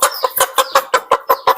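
Rapid, close clucking from a rooster, a male chicken being picked out as breeding stock in a home-scale poultry setup, about eight sharp evenly spaced clucks in quick succession, loud and alone.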